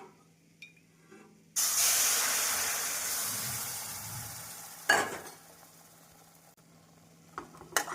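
Boiling water poured onto roasted semolina for orange kesari sets off a sudden loud sizzling hiss that slowly fades over several seconds, with a clatter partway through.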